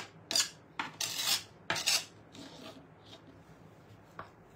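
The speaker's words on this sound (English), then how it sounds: "I will add a little plaster with a simple palette knife" A palette knife spreads plaster in a few quick scraping strokes, close and crisp, with short gaps between swipes and no talk.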